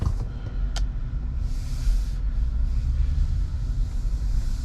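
A 2022 Tesla Model Y Dual Motor Long Range on a test drive gives a steady low rumble of road and tyre noise from inside the cabin, with a faint brief click early on.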